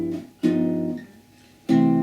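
A sustained chord rings out with rich harmonic tones, fading slightly before being struck again; two chords in all, with no voices.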